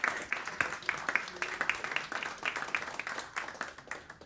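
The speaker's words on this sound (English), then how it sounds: "Big applause for Anna." Moderate audience applause for a pitch winner walking onto the stage at a social-innovation event, scattered clapping with distinct individual claps heard at a distance.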